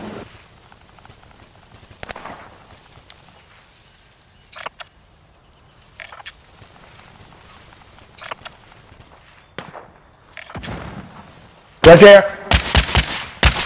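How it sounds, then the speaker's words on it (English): Gunfire in Call of Duty: Modern Warfare, scattered faint shots early on, then a loud close burst of rapid automatic fire near the end, with players talking throughout. "Yep, they're firing at something over there."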